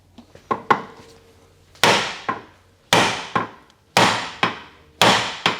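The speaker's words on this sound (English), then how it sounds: "Just kind of whack the knuckle where this goes through because it's got a cone fit" A hammer strikes a steering knuckle on a Subaru BRZ to pop its cone-fit joint loose: a few light taps, then four heavy sharp metallic whacks spaced about a second apart, close and loud.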